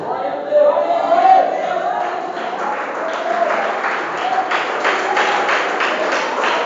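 A church congregation breaks into sustained applause during a worship service, the clapping building into a steady wash of many hands with a voice carrying over it.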